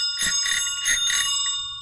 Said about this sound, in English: If you listen to this bell